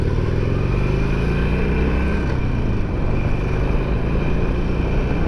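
Motorcycle fitted with a Krator windshield cruising on a regular road at about 40 mph, steady engine drone blended with heavy wind rush, loud and continuous.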